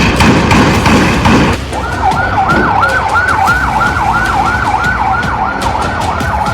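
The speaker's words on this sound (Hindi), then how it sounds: "इस अस्पताल के बाहर एक के बाद एक एम्बुलेंस फ्लैश लाइट जलाकर पहुंचती है" Ambulance sirens wailing outside a hospital in the West Bank, a loud rising-and-falling electronic siren starting partway through over dense traffic and crowd noise, repeating in a fast steady cycle.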